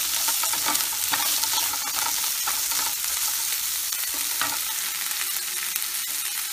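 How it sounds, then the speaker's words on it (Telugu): Onions and ginger garlic paste fry in a pan for palak paneer curry, a dense continuous sizzle up close with repeated scraping stirs of a spoon throughout and no speech. "దీంట్లోకి అల్లం వెల్లుల్లి పేస్ట్ వేసుకుని"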